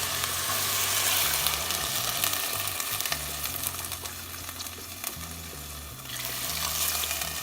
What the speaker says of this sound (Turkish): Hemen arkasından 5 su bardağı sıcak su ilave ediyoruz